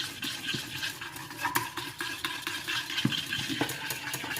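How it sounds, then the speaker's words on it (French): A spoon scrapes and clinks steadily around a bowl while stirring a warm dessert mixture to dissolve gelatin, giving close, irregular taps and swishes over a faint background hum with no talking. "Donc là on mélange pour dissoudre et en même temps pour refroidir."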